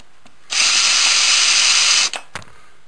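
An electric power drill runs in one steady, loud whine for about a second and a half, then stops. A couple of short clicks and knocks follow in the near-silence afterward.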